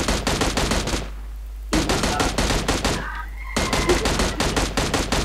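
Bursts of rapid automatic gunfire crackle in PUBG Mobile, three long volleys separated by brief pauses, loud and close, with no talk over them.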